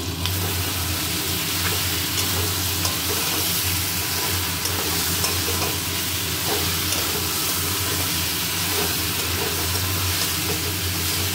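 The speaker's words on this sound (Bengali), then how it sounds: "এবারে মাছের মুড়োগুলো দিয়ে দিলাম, ওর সঙ্গে টমেটোটাও দিয়ে দিলাম" Fish heads with spices and tomato stir-frying in a pan, giving a steady, close, continuous sizzle and crackle with faint stirring scrapes throughout; no voices.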